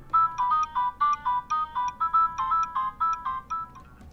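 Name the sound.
polyphonic ringtone of Nokia 7600 phone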